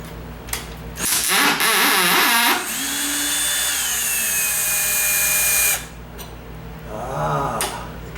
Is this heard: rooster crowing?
no